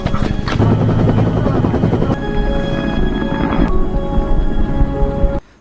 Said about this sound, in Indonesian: Dan akhirnya helikopter penjemputan juga tiba di sana.